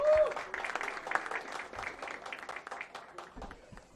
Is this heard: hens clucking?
no